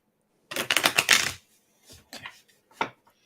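Tarot cards being shuffled by hand, a close, crisp burst of rapid riffling followed by a few shorter taps and shuffles with brief pauses between, no voices.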